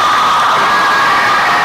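A church congregation at Holy Cross Parish in Abuja cheers loudly for the parish priest during Mass, a dense, close wall of crowd noise that holds steady throughout.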